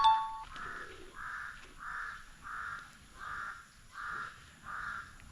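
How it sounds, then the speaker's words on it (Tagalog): Crows caw loudly outdoors in the morning near farm fields, a run of seven evenly spaced harsh calls at a steady rhythm, fairly close and clear. "Lakas ng uwak."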